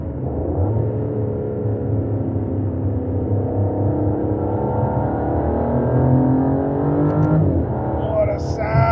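Aston Martin DBS engine accelerating on a drive, a loud, close, continuous rumble whose pitch climbs steadily through a long pull and then drops off near the end.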